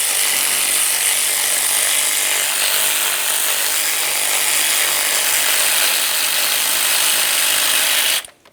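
A ratchet wrench clicks rapidly and steadily while loosening the top starter bolt on a 2007-2017 Jeep Patriot 2.4L four-cylinder. The ratcheting is close and continuous for about eight seconds, then stops suddenly.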